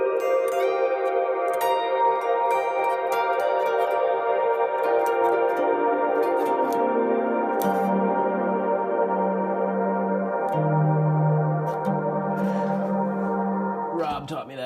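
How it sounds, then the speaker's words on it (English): Electric guitar played through a reverb pedal set for long decay, sustained chords ringing out in a dense shimmering wash while the low notes step down and tails hang before cutting off. "and then the first pedal in the chain is the reverb."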